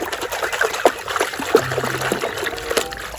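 Toy vehicles such as a monster truck, race cars, planes, tanks and buses being rinsed in clean water, with steady trickling and splashing and a few louder splashes throughout.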